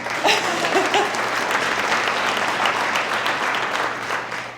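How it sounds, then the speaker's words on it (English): An audience claps at a school district State of the Schools address, a full, dense burst of applause with a brief voice near the start, staying strong before easing slightly. "Yeah, you can clap."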